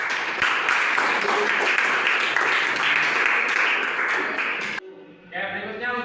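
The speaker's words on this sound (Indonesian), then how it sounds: "Boleh tepuk tangan dulu dong untuk" Classroom applause during an Islamic jurisprudence lesson, a dense steady wash of many hands clapping for several seconds, cutting off abruptly before a voice begins speaking.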